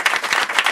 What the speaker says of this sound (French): Là également, applaudissements